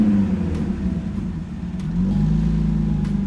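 A BMW E36 drift car idles with a steady, deep engine rumble, then revs up partway through and holds at a higher, louder pitch. The engine is close by and alone.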